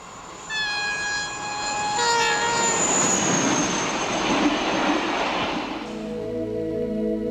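An RTG gas turbine train (turbotrain) passes with a two-tone horn blast at the start, then a rising roar and rushing rail noise, followed by a whining tone as it recedes.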